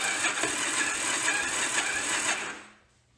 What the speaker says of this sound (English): It turns over, which means the engine isn't seized.